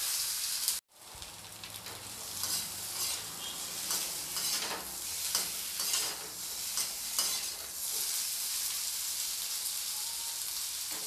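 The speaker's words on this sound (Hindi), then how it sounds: "अब मैं इसी बचे हुए तेल में ये जो आलू है, इन आलूओं को भी फ्राई कर लूँगी मैं" Potatoes fry in leftover oil in a pan, a continuous bright sizzle and crackle like rain on a surface, close and steady after a brief cut near the start, with no talking.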